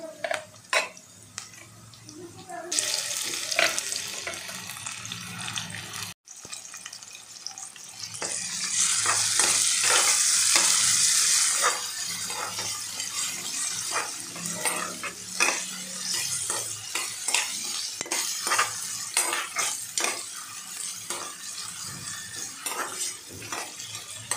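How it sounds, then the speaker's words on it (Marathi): Tomatoes tipped into a pan of softened frying onions for an achari vegetable pulao, then stirred: steady sizzling with scraping and clinking of a spoon against the pan, a louder burst of frying as they go in. "याच्यामध्ये आपण टमॅटो टाकूया।"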